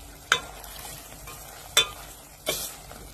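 A spoon stirs frying food in a pan while making mee or bihun soup, with three sharp scraping strokes over a steady low sizzle.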